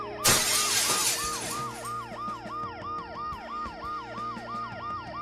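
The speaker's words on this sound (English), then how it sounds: "The noise the ambulance makes will cover the sound of the glass breaking." A wailing ambulance siren in the video game Dead Synchronicity: Tomorrow Comes Today cycles up and down steadily, starting with a loud crash and shatter of breaking glass near the beginning.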